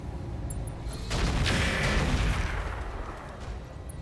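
A Corsair mech in the RogueTech game fires Thumper artillery, giving a heavy booming blast that swells and then rolls away into a long rumbling tail.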